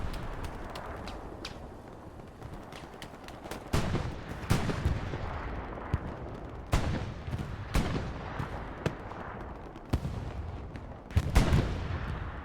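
Tank cannon and artillery fire in the World War II shooter game Hell Let Loose during a competitive match, with sharp booming shots and distant rumbling blasts at irregular intervals over a constant low battlefield din.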